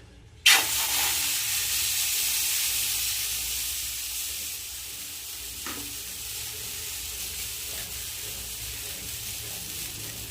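Flour batter is poured onto a hot, oiled griddle and bursts into a loud sizzle, then keeps up a steady hissing fry with a few soft stirring or spreading scrapes.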